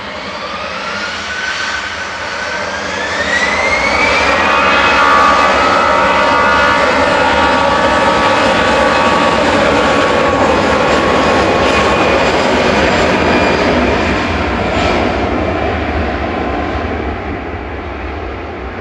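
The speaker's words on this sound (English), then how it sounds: "EasyJet departing next. This is flight 2229 over to Prague. 13-year-old A320 Classic." Thirteen-year-old EasyJet Airbus A320 jet departing Manchester Airport, a loud rising engine whine and roar that swells to a peak near the middle and slowly fades, with no talk.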